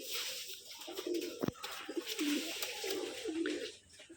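Colour-matched Rajshahi Giribaz pigeons at a farm in Charghat, Rajshahi, give repeated low rolling coos, a few phrases in a row, fairly near against a steady background hiss, with one sharp knock in the middle.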